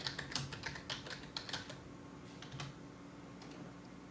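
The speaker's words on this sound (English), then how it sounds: "let's type in Deep Lakes" Quick bursts of clicky computer-keyboard typing, close and fairly quiet, run through the first half, followed by a few scattered keystrokes over a faint steady background hum.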